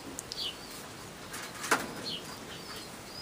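Domestic pigeons in a loft, with a burst of wings flapping near the middle and a few faint chirps and soft calls around it, all fairly quiet with no talking.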